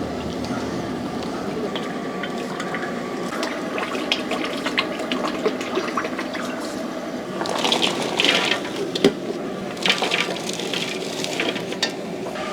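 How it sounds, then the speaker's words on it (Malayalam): Sesame oil poured into a heated uruli pot while making Kerala-style enna manga, a continuous liquid pouring and gushing wash that grows brighter and more splashy toward the end. "ഉരുളി ഒന്ന് ചൂടായതിന് ശേഷം നമുക്ക് കുറച്ച് നല്ലെണ്ണ അങ്ങോട്ട് ഒഴിക്കാം."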